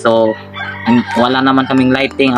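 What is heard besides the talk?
chickens and roosters crowing and clucking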